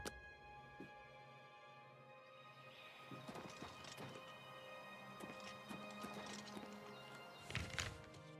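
Horse hooves clip-clop in an Elder Scrolls game, scattered irregular thuds over a steady humming ambient bed, with a few louder knocks near the end.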